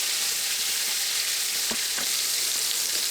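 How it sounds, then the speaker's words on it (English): Fish fries in hot oil with a loud, dense, continuous sizzle and a few faint scraping or bubbling pops within it, no voices. "oil is probably at the right temperature. Just give that fish a nice cook."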